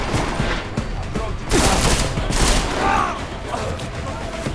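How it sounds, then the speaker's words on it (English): Gunfire in the video game Deus Ex: Mankind Divided, a dense crackling fusillade of shots and bursts running throughout, loud and busy, with voices mixed in at times. "Who's shooting?"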